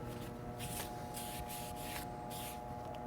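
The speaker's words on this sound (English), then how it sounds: "Spray it a little bit because I want to get that off of there." A handheld spray bottle mists an ink cleaning agent onto a surface in a series of short, close spritzes, about five quick bursts separated by brief pauses, with light rubbing sounds underneath.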